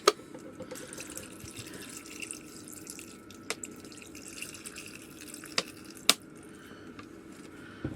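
Water runs steadily into a pot aboard a sailing boat with a soft rushing sound, broken by a few sharp drips and clinks.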